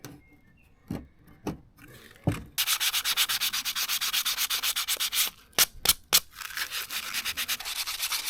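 Sandpaper rubbed by hand across a Mirror dinghy during repair, a few isolated scrapes followed by a long run of quick, rhythmic back-and-forth strokes, close and clear with no talking.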